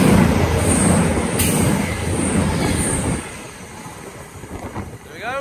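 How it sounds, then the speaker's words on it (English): An Arriva Cross Country Class 221 diesel unit rumbles loudly past a station platform, its roar fading after a few seconds into quieter rolling while a voice speaks over it and a faint wheel squeal rises at the end. "This is a Arriva Cross Country 221 now."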